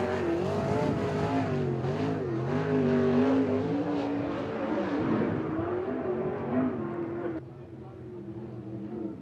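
A winged sprint car runs a time trial lap on a New Zealand oval, its engine a steady, loud roar that rises and falls through the corners, with a commentator talking over it before the sound drops away.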